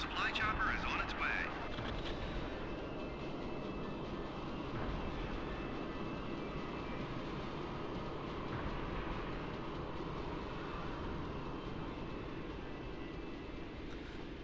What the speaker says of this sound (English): Send supply chopper ASAP.